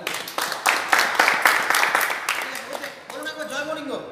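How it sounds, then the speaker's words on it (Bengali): Audience clapping loudly at a gathering, dense claps fading after a few seconds as a voice starts speaking. "জোরে হাততালি হয়ে যাক।"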